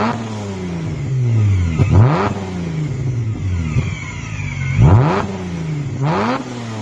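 A Nissan Maxima with an aftermarket setup, revved repeatedly with quick blips that climb and fall, several sharp bursts spaced a couple of seconds apart, loud and close.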